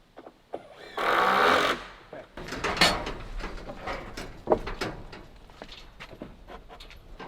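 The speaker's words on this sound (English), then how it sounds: "go ahead and get a couple screws in there" A power driver sinks screws into the framing of a second-story porch on a cabin in the woods. It gives one loud whirring burst of about a second, followed by knocks, clatter and other handling noises.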